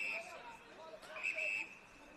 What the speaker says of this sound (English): We have a double whistle.